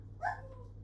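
A pet dog, Perle, lets out one short, high whine or yip, close but fairly soft, reacting to a noise against a low steady background hum.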